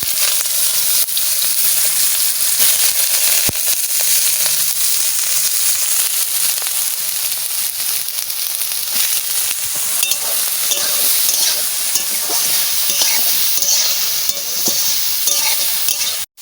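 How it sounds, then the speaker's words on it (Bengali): Soybean chunks fry in hot oil for a vegetarian curry, with a loud, continuous sizzle and crackle close by, mixed with steady stirring scrapes and no talking. "সবিন কটা ভাজা করবো"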